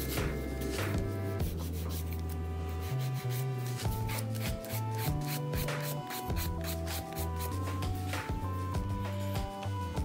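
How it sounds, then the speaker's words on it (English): An orange buffing block rubs over an acrylic nail near the cuticle in quick, repeated scratchy strokes, faint and close under steady background music. "I'm going to pick up my orange buffing block, and once again concentrating up around the cuticle area first."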